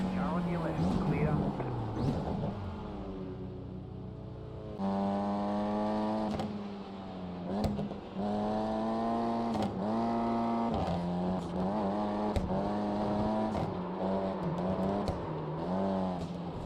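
Race car engine in the iRacing video game heard from an outside view, a steady droning tone that rises and falls with revs and gear changes and carries on continuously throughout.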